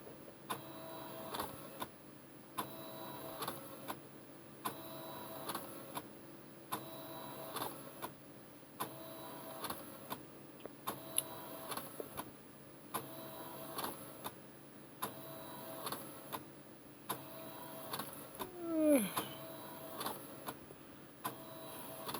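A Canon BJC-80 portable inkjet printer, run as a scanner, repeats a steady mechanical cycle of whirring carriage passes and clicks at regular intervals, close and moderately loud, with a brief squeak near the end.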